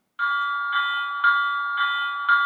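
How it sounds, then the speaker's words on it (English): The electronic bell of a Lionel GG1 4829 model electric locomotive rings steadily and brightly, its tone pulsing in a regular rhythm of about two strikes per second, clear and close with no talk. "Now, if we hit the bell,"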